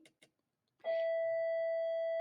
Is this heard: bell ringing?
yes